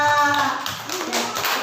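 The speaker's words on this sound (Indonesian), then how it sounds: "Silakan beri tepuk tangan untuk kita semua." A student group in a classroom claps, a short burst of dense hand clapping close by, with talk over it.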